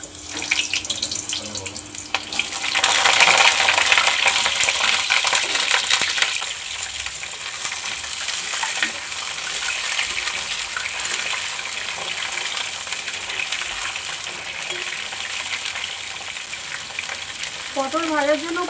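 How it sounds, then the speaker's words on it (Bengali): Whole pointed gourd drops into hot mustard oil in a wok, bursting into a loud, close sizzle that then settles into a steady crackling fry, with faint clatter near the end. "তেল ভালো করে গরম হয়ে গেছে, তেলে দিয়ে দেবো কেটে রাখা গোটা পটল।"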